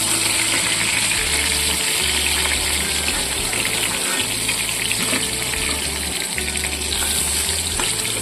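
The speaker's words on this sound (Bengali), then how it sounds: "একইভাবে এই দুটো মাছও ভেজে নেব।" Hilsa fish frying in hot oil gives a constant, close sizzling hiss that runs unbroken and fairly even in level, with no one talking over it.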